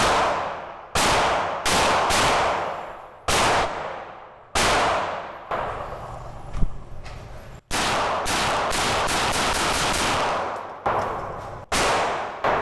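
Gunshots from a firearm during safe-handling practice crack out one after another, loud and sharp, each followed by a decaying ring; some come spaced apart and others in quick strings.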